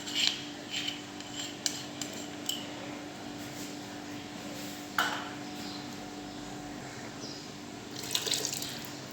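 Water is added to leftover peanut paste and stirred for mafé sauce, heard as soft watery scraping and stirring with a few sharper clinks against the container, over a steady low hum.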